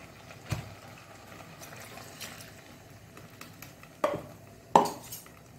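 Menthi dosa batter stirred with water in a bowl, quiet wet swishing broken by a few sharp utensil knocks against the side, the last two louder.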